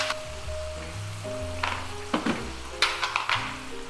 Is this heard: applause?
no